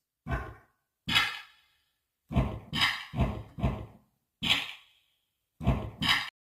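A drum kit built from toilet sounds: short percussive thuds, splashy hits and whooshy bursts form an irregular beat of about a dozen hits, separated by silence, with no talking.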